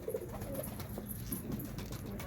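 Pigeons coo softly while being fed grain and wheat, a few low murmuring calls over steady background noise.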